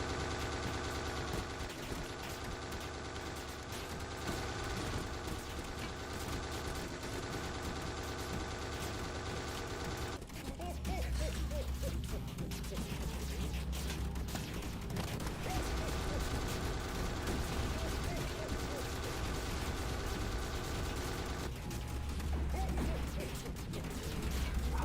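Rapid gunfire aimed at Santa in the video game Absolute Insanity, a dense mechanical rattle of shots running continuously under steady game music.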